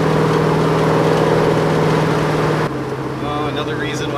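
A 1957 Chevrolet Bel Air restomod's engine runs with a steady low rumble and a constant droning hum, loud and close, easing slightly partway through.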